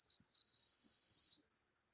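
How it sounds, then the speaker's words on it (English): A single high-pitched electronic beep, a few short chirps and then a sustained steady tone lasting about a second, faint and alone in a quiet room. "Something's beeping."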